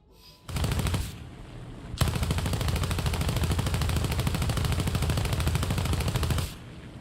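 Automatic gunfire from a video game weapon, a loud close burst of rapid rhythmic shots followed after a brief pause by a much longer sustained stream of fire that stops abruptly.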